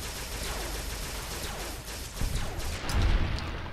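Rapid gunfire from the MF Hyperbreeder Alpha, an energy weapon in Fallout: New Vegas, fired against giant radscorpions, as a dense steady stream of shots that swells into a heavier burst near the end.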